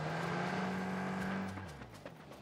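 A car driving in a battle-royale-style video game, a steady engine drone that drops in pitch as it slows and fades, with faint clicks and small knocks afterward, no talking.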